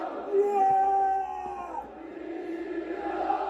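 A wrestling crowd roars and yells, a dense, loud wall of cheering with sustained shouts and whoops rising over the mass, dipping briefly midway before swelling again.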